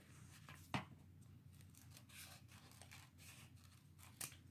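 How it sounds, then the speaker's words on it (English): Scissors snip through excess paper while a Mickey Mouse ornament is being made, two sharp cuts standing out over a soft steady background hum, close and fairly quiet. "We can cut the excess so it's easier to glue."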